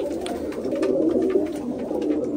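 Several male pigeons in a breeding loft give continuous low, rolling coos close by, a steady overlapping burble with no talking.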